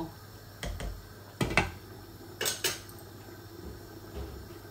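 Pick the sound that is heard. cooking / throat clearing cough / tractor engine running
cooking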